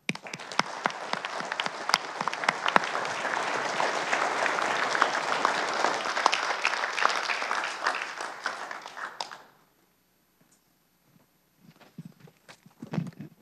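Sustained audience applause at an afternoon session of an energy conference, dense and steady for about nine seconds before stopping abruptly, followed by faint scattered room noise and a few late claps.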